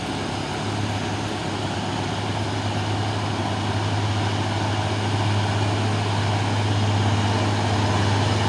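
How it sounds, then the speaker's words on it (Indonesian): A Tronton heavy truck on an Indonesian road, its engine giving a steady, loud low drone with a constant hum throughout and no talking. "Dan ada juga truk Trinton."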